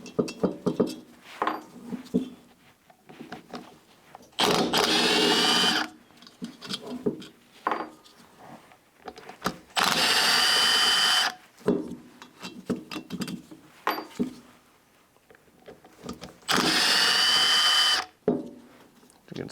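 A power driver whirs in three long bursts while T27 Torx screws come out of a STIHL BG55 blower being taken apart, with small clinks and handling knocks of parts between the bursts.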